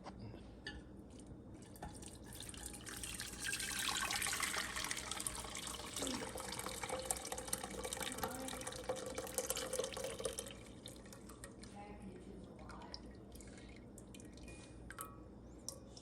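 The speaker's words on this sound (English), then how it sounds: "we're going to take the water that we have here and we're going to strain this into another pot" Seafood shell stock strained from one pot into another makes a steady pour of liquid splashing and trickling, loudest in the middle and then fading to dripping.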